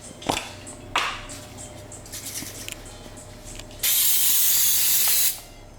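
A close, loud hiss of cooking spray on a baking sheet lasting about a second and a half, preceded by faint handling clicks and kitchen rustling.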